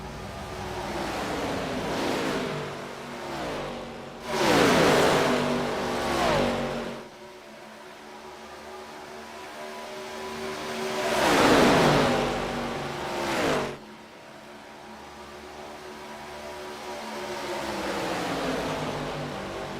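Racing car engines roar in a Daytona International Speedway esports race, with two loud swells as cars sweep past over a steady drone of other engines, no talk.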